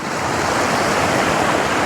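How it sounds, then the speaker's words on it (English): A small waterfall in a cold winter trout river gives a constant, dense rush of falling and churning water, loud and close, with no voices. "It's got like a little waterfall."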